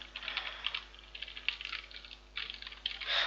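Computer keyboard keys pressed in scattered bursts while hunting for the right key during an Ice Age 3: Dawn of the Dinosaurs PC game, close clattering taps with short pauses and no voice.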